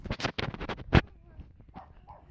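A dog barks and yips in a short, excited run of sharp calls, close and fairly loud, followed by quieter whimpering sounds, with a person's voice mixed in.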